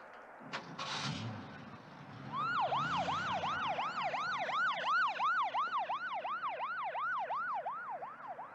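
An ambulance siren wails in a steady, repeating up-and-down rise and fall. It starts after a brief muffled knock and some low rumble, then stays loud and close to the end.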